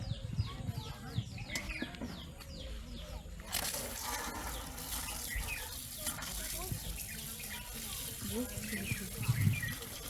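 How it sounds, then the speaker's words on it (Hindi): Tap water running to waste in a home, a continuous splashing wash heard fairly close, with birds chirping in the background and no talk. "आप पानी क्यों वेस्ट कर रही हो?"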